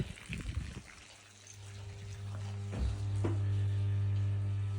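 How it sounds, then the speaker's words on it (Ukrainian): Vibration pump drawing water up from a borehole, a steady electric hum with trickling, gushing water that grows louder and settles into a constant drone after a brief start. "Зараз будемо прокачувати вібраційним насосом її."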